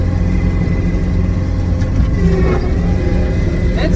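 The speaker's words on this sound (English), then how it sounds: "there's the FedEx truck getting ready to leave" A FedEx delivery truck idles nearby with a steady low diesel rumble, a few brief mechanical clunks and shifts in tone rising over the continuous engine drone.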